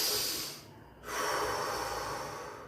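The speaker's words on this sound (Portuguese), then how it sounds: "A respiração é a nossa aliada quando a gente respira conscientemente." Slow, deep conscious breaths taken close and alone, a long airy inhale, a brief quiet pause, then a steady drawn-out exhale, with no talking.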